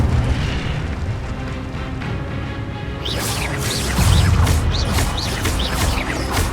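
Incendio fire spell cast in Hogwarts Legacy: a steady rushing magical roar, then a sudden brighter burst of crackling, whooshing flame bursts that repeat in quick succession, with a heavy low thump joining near the end.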